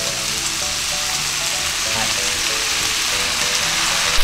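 Cabbage sizzles steadily in a hot pot, a continuous bright frying hiss with occasional stirring, and faint speech underneath.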